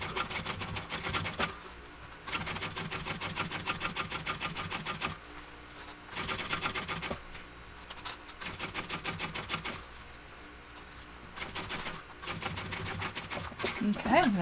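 A domestic sewing machine stitches handbag seams in rapid, rhythmic bursts, stopping and restarting several times, fairly close and steady between pauses.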